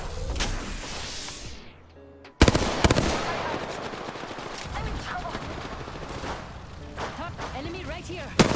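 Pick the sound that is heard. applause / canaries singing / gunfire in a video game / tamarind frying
gunfire in a video game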